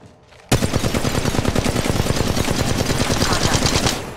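Gunfire in the mobile game Apex Legends Mobile, a sudden loud stream of rapid automatic shots that starts abruptly and holds a fast, even rhythm for several seconds before tapering off.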